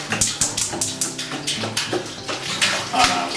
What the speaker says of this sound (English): So now we're going to add 2 gallons of water